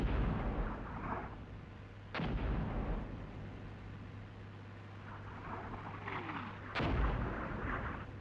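Enemy artillery shells falling in the Armored Brigade 2 wargame: two sharp distant booms about four and a half seconds apart, each trailing into a rolling rumble over a steady low hum of engine and ambient noise.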